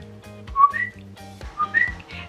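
A person whistles an imitation of the Puerto Rican coqui frog's call, two rising whistled chirps repeated twice, close and clear over a steady low background hum.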